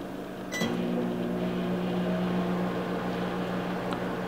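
A microwave oven starts with a click and then runs with a steady low hum and faint mechanical whir, quiet and continuous, with no talking.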